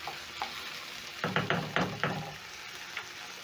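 Tomatoes are stirred into softened onions in a hot pan for a chickpea curry, giving a few quick scraping strokes over a steady low sizzle, close and clear.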